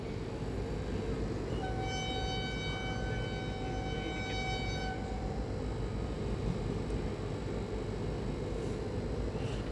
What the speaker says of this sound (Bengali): তো ট্রেনটা অন টাইমেই পৌঁছে গেছিলো আমাদের।